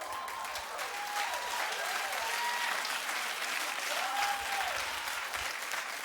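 Sustained applause from a TV talk show studio audience fills the whole stretch, steady and dense, with a few faint whistles rising above the clapping.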